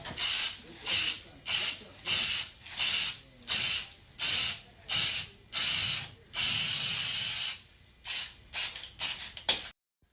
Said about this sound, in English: So I'm just going to spray it on.